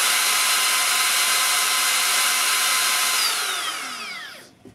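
A high-pitched Makita 40-volt cordless router screams at full speed, close and loud, then brakes quickly to a stop with a sharply dropping whine.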